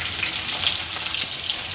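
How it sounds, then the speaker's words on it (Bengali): Tomato frying in oil in a pan, a steady dense hiss of sizzling that stays loud and even for its short length, with no voices. "টমেটো একটু ভালো করে ভেজে নেব।"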